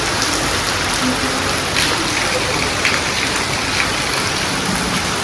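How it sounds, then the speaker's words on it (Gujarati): Heavy rain pours down outside, a dense, loud, unbroken roar of drops hitting surfaces across the whole stretch. "બહાર જબરદસ્ત વરસાદ ચાલુ છે"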